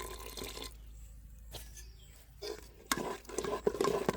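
Water poured into thick dosa batter in a bowl, with a few soft drips and splashes followed by wet stirring and sloshing that grows louder toward the end; no talking.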